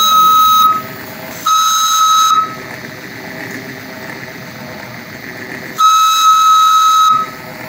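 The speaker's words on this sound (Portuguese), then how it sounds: "Vamos apitar. Fazer a apoteose do apito." A shrill steam whistle on a miniature steam engine at a model sugarcane mill sounds in three loud blasts, hissing steam underneath, with quieter hissing gaps between them.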